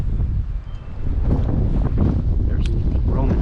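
Strong wind buffets the microphone on a rocky shoreline during fishing, a loud, continuous roaring rush with gusty swells and faint sounds underneath.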